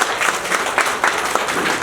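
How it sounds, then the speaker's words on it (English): Audience applause greets boxing champion Mary Kom as she is welcomed as brand ambassador, a short, lively burst of many hands clapping with a few sharper individual claps standing out, no voices. "I think we need to give her a big round of applause for doing this"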